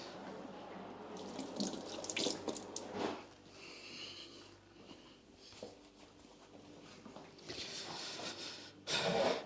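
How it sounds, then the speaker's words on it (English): Water from a tap runs into a sink while hands are washed, with splashing and gurgling that swells and fades over several seconds and a louder gush near the end; no talking. "Just going to wash my hand a minute."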